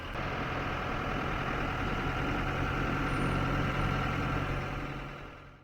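Motorboat pulling away across Rudrasagar Lake in Tripura, its engine droning in a steady, loud hum throughout before easing off slightly at the end, with no voices.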